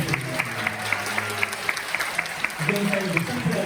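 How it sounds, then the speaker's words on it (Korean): Live audience clapping at a Korean church radio-style gathering, a moderately loud spatter of hands with faint music or voices underneath, the clapping thinning out toward the middle before picking up again. "다시 한번 뜨거운 박수 부탁드립니다"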